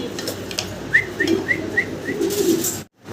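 A large white and black giant homer pigeon gives a short series of soft, evenly spaced coos close by, over a steady background hum.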